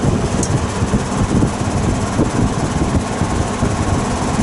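A vintage GE box fan runs on its high setting, a loud, steady whooshing roar with a low motor hum that continues unchanged throughout, close up and alone.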